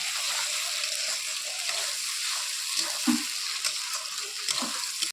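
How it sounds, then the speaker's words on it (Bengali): Spice masala for stingray kalia being lightly sautéed in a hot pan gives a steady, dense sizzle, with occasional scraping stirs and soft clinks throughout, heard close and with no one talking. "তো হালকা করে কষিয়ে নেব যাতে মশলার যে কাঁচা গন্ধটা আছে সেটা যেন না ছাড়ে"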